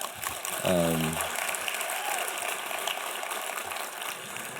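Audience applause at a conference: steady broadband clapping fills the whole stretch at an even level, with a brief voice near the start.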